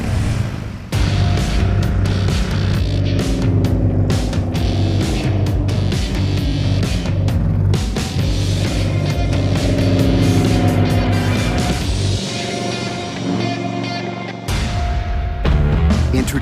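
A 2015 Indian Scout mid-size motorcycle engine runs loud and close, a full throaty rumble that swells and holds before briefly dropping and returning.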